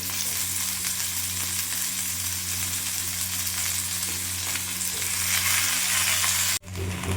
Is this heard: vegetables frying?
yes